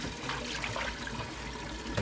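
Water drains from an unplugged allotment sink into a can below, a full, continuous gush and splash of pouring liquid that stays steady and close for the whole stretch.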